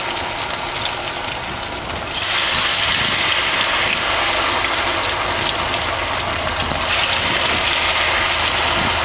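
Potato lollipops frying in hot oil, a steady broadband sizzle that jumps louder after about two seconds and then holds a continuous, dense crackle throughout.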